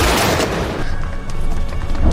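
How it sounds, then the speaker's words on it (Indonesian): Gunshots ring out from a masked shooter firing from an upper floor in a theater in a film, a dense burst of loud booming blasts that decays into echoing reverberation. "terdengar suara tembakan yang berasal dari ruang teater"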